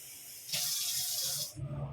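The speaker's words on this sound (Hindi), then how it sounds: "चलो मशीन चलाएं, पानी भरें।" Water gushes into a washing machine as it fills in a home, a close, loud hissing rush that starts abruptly and continues for about a second before dropping off.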